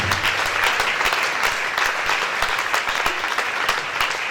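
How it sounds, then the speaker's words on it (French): Congregation at a live church service clapping loudly and continuously, a dense, sustained applause of many hands with scattered louder claps and no speech. "Acclamez très fort pour ce Jésus"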